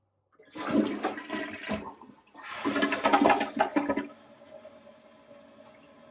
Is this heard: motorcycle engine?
no